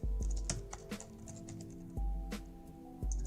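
Clicky typing on a computer keyboard, close and quiet, with scattered single keystrokes and a few louder key hits, with no talking.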